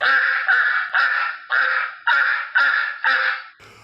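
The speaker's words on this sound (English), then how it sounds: "the sound of those rabid ducks means that once again it's time for Let's Talk About" Duck quacking sound effect marking a show segment: seven loud, harsh quacks in a steady rhythm about half a second apart, close and alone with no talk.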